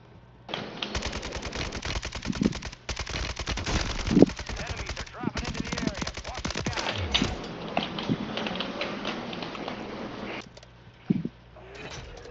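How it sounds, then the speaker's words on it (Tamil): Bursts of gunfire in a Warzone Plunder video game match, including shotgun blasts, come as rapid clattering volleys with short pauses, fairly close, while players talk over the action. "ஐயோ ஷார்ட் கன் அடிக்கிறான்"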